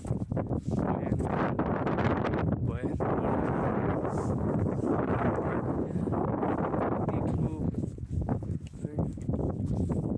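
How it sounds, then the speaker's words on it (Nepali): Cold wind gusts steadily across a microphone high in the Dolpa mountains, a loud, continuous roaring rumble with no letup, while a voice is heard faintly beneath it. "यति चिसो चाहिँ हावा लाग्दो रहेछ।"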